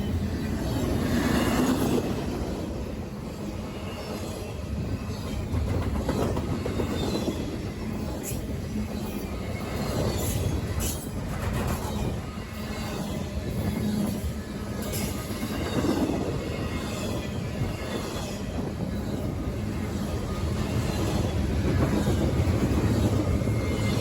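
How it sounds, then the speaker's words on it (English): CSX I-158, a double-stack container train with engines up front and mid-train, speeds past Berea, Ohio, a loud sustained roar of rolling wheels with rhythmic clatter and occasional squeal, close by and continuous throughout. "CSX I-158, zooming past Berea on its way to fuel up at the Collinwood pad"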